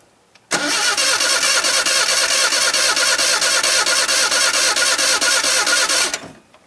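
A wood gas truck's engine cranks over with a steady, rapid pulsing starter sound for several seconds, loud and close, before cutting off abruptly.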